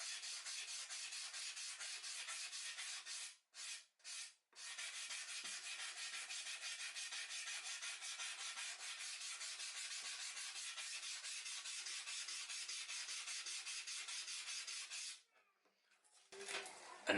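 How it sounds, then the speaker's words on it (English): Steady, continuous abrasive rubbing of fine sandpaper across a carved stone surface, with two brief pauses early on, then stopping near the end with a few small handling sounds. "I'm just going to get like just a very fine file or sanding paper"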